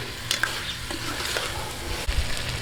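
Pork sautéing in a hot pan, a continuous close sizzle with a few quick stirring scrapes and knocks over about two and a half seconds, no voices.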